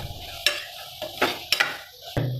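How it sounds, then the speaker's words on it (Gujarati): Chili powder stirred in hot oil in a pan, a spoon scraping in several distinct strokes over a steady close sizzle of frying spice. "ત્યાર પછી તેને આપણે આ રીતે હલાવી અને તેલમાં જ પકાવવાનો છે"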